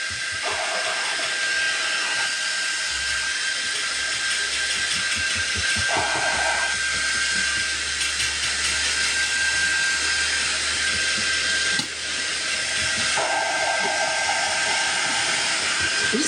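A hair dryer blows steadily on wet red paint on a Walmart Santa bust DIY craft, a loud continuous whooshing hiss lasting throughout with slight shifts in tone as it moves, no talking over it.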